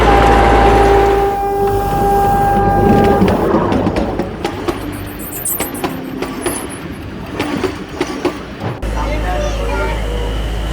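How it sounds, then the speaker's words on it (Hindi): A roughly 100-year-old narrow-gauge toy train rolls over a level crossing on the Bilimora to Waghai line, a loud engine drone and horn giving way to rhythmic wheel clatter, with voices talking throughout. "so train just level crossing पार किया"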